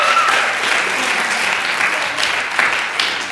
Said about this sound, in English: Let's cheer them out on stage.